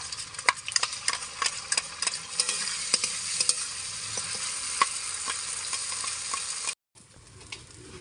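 A ground paste of pointed gourd, garlic, green chili and shrimp fries in hot oil, crackling and sizzling close up with repeated sharp spoon taps and scrapes, then cutting off abruptly near the end before a quieter sizzle resumes.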